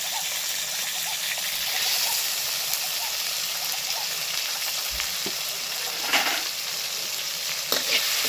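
Tomato with salt and two slit green chillies frying in a pan, a steady close sizzle and crackle throughout with a few scrapes of stirring, no talking.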